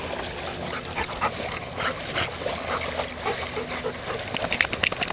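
A big dog whimpers and yips close by in short bursts while out off leash near water, with a rushing outdoor background throughout.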